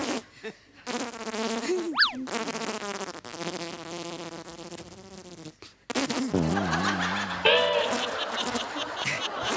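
Several performers on a Marathi comedy stage show take turns imitating a buzzing bumblebee with their voices, producing wavering, nasal hums that rise and fall, close and loud, broken by short pauses and some laughter.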